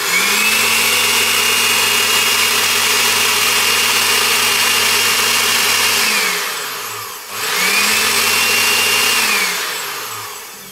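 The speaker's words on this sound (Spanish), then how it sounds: "Vamos a la licuadora. Lo tapamos porque se vuelve polvo." A blender grinding sugar into powder runs with a steady, loud motor whine, cuts out briefly, then starts up again and keeps grinding.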